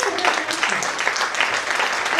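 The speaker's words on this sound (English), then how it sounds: "Can you clap for them like you're really happy they are the best?" Audience applause at an awards workshop in Musanze, a dense, steady wash of many hands clapping close by, with a voice breaking through partway.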